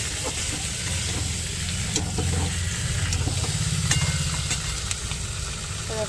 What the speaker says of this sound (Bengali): এই তো মশলার সঙ্গে মাছটা ভালো করে একটু কষানো হয়ে যাচ্ছে